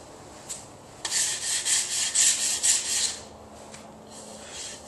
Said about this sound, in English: any edge that you can touch, you'll want to sand and ease.